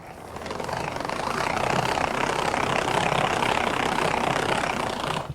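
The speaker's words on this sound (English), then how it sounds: "You always want to start your mixing on gear 1." A Whip N Mix Chef hand-cranked mixer churns dough on gear 1, giving a steady, dense whirring rumble that holds at an even level throughout, close and continuous with no talking.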